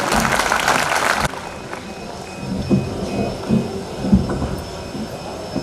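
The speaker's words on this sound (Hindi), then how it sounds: "एक बार जोरदार तालियों के बीच में कमल।" Loud applause from an audience at a Hindi poetry recital as the poet Kamal Agneya is welcomed: a dense burst of clapping for about a second, then it cuts off abruptly to quieter room noise with scattered soft thumps.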